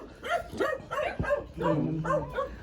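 Dog barking and yipping in a quick run of about half a dozen short barks, some whimper-like, fairly close and moderately loud with no talk over them.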